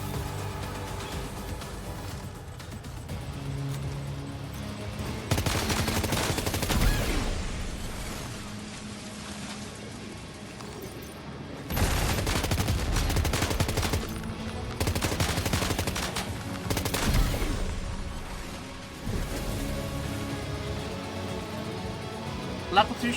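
Gunfire from a shotgun in the video game Death Stranding 2, several loud bursts of shots spaced over the span, with a speaking voice running underneath.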